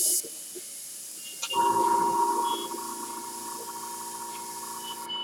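Airbrush spraying paint, a steady thin hiss that starts after a moment, swells briefly, then settles into a continuous softer spray close by.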